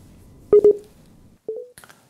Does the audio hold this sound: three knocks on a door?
no